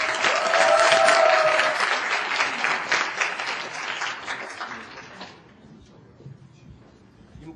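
An audience in a university lecture hall claps loudly to welcome a business student presenter, the applause peaking early and then thinning out to a quiet room within about five seconds.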